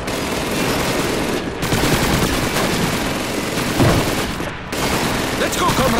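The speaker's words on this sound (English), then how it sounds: "Grab a submachine gun and make sure you reload it first." Submachine gun fire in the video game Call of Duty 2, loud and close, with dense sustained automatic bursts that break off briefly twice before resuming amid the battle din.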